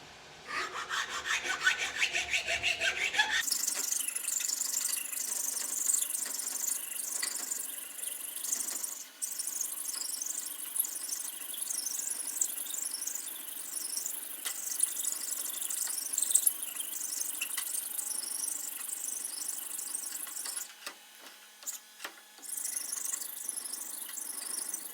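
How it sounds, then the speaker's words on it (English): Steady rasping of sandpaper and a file working a wooden spatula handle, continuous close rubbing strokes with squeaky scraping, briefly pausing and resuming, no speech. "Now I'm going to sand the handle, and I'm gonna file the edge to give me an angle here."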